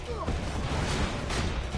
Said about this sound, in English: Have some fireworks!